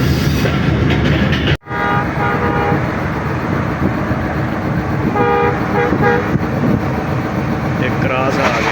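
A passenger train runs from Gujranwala toward Rawalpindi with loud, constant rumble and rattle from inside the carriage. Several horn toots sound over it, and talk is heard beneath the noise.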